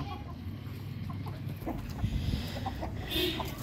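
Hens being herded into a rooftop coop, clucking softly and steadily in the background while people move about and a voice speaks nearby.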